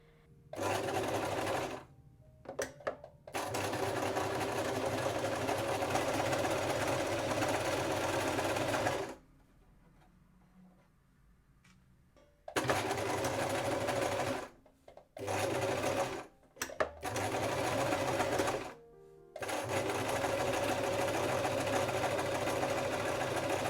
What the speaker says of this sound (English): So now I'm gonna place it on my sewing machine.